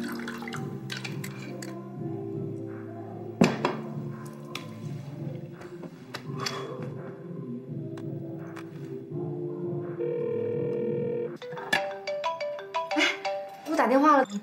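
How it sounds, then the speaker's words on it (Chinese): An incoming-call ringtone plays as a repeating electronic melody in short looping phrases, close and clear, with voices talking over it and a brief different tone near the end. "打电话了，不接还是不接啊？"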